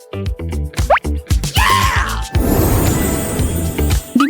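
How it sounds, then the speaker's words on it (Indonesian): Small drops of liquid plop one after another at close range, then give way to a steadier gurgling, splashing pour of soda near a chocolate fountain. "Dimulai dengan tetesan kecil."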